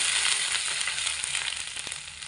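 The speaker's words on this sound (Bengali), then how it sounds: "আদা দিয়ে হালকা একটু নেড়ে চেড়ে নিতে হবে" Chopped ginger fries in hot spiced oil for a vegetarian pumpkin dish, a bright, close, steady sizzle that eases off slightly, with faint stirring taps and no talking.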